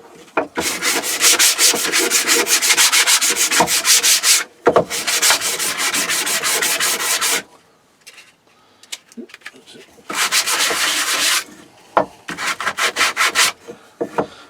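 Steady rasping strokes of sandpaper on blowtorched scrap wood in long bursts, with short pauses and a few knocks between passes, close up.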